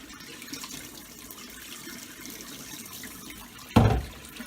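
Hot tap water gushes briefly from a faucet over raw chicken wings near the end, a short loud burst of splashing after a quiet room tone.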